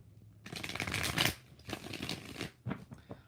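A deck of tarot cards is shuffled in a few quick bursts of riffling, papery flutter, close and crisp, with short pauses between the shuffles in a quiet room.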